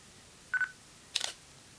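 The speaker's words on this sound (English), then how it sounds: "So let's do mechanical first, just so you can hear the sound." A Nikon V1 mechanical shutter in continuous shooting gives two quick, soft, close clicks about half a second apart in a quiet room.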